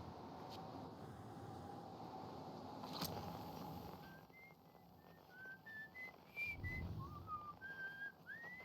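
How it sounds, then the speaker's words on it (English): A jaunty tune is whistled from a campfire in the Outer Wilds video game, a clear melody of short rising and falling notes that enters after a few seconds of low ambient rumble. "Somebody's whistling a jaunty tune. A whistle? Yep, coming from the fire."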